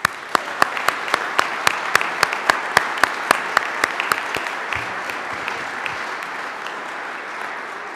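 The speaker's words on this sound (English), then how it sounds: "I would like to ask all of you in the audience to give a round of applause" An audience claps at a military change of command ceremony for an aviation battalion, starting with a few sharp individual claps that swell into steady, moderately loud applause before fading.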